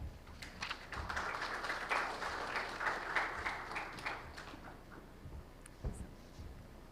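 Audience at a stock exchange listing ceremony for an Indian company claps as a guest is welcomed, a fairly faint, even patter of many hands over several seconds that thins out toward the end.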